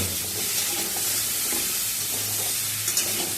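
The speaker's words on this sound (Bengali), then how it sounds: "লবণ দিয়ে আরও খানিকক্ষণ কষিয়ে নেব" Pumpkin pieces sizzle in a pan with salt, a dense continuous frying hiss close by, with soft stirring scrapes now and then and no talk.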